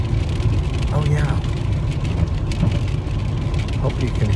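Rain patters steadily on a car, a dense continuous drumming of drops with a person talking over it.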